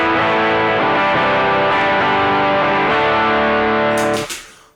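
Electric guitar with a Mosky clone boost pedal engaged rings out loud and alone as a sustained, thick distorted chord texture that holds for about four seconds before cutting off.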